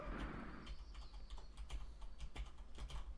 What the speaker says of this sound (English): Did you see I was typing at the bottom there?